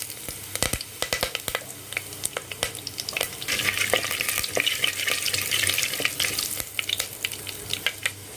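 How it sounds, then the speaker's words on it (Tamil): Oil sizzles and crackles steadily as fenugreek seeds and curry leaves fry in a pan, with occasional sharp pops and stirring scrapes, close up. "வெந்தயம் நல்லா பொரிஞ்சிருச்சு"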